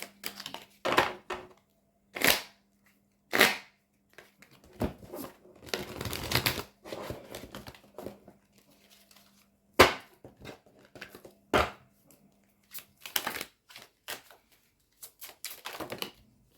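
Tarot cards are shuffled by hand in short, crisp bursts of riffling and slapping, each lasting about a second, with quiet gaps between them in a calm, still room.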